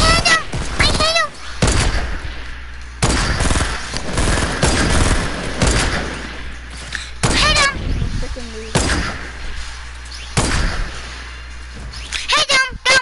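Hunting rifles fire in the video game Fortnite: a series of sharp, loud cracks, some in quick pairs, are spaced across the stretch, while players talk and react excitedly between shots.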